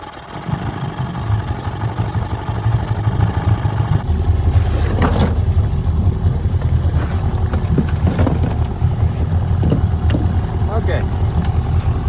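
A small skiff outboard engine under repair is cranked and fires up at about four seconds, then settles into a steady close mid-pitched idle with a few sharp clicks, and someone speaks briefly.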